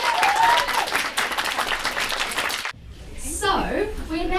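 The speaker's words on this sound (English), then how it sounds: "Big round of applause for them." Audience applause for young people called up to the stage at a community organisation's tenth birthday celebration, dense clapping for under three seconds before it cuts off abruptly, followed by quieter room sound with talking.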